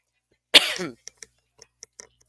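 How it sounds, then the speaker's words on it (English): A single sharp cough or throat clear bursts out, followed by a few faint, scattered clicks and taps in otherwise quiet surroundings. "I have been coughing while I'm here."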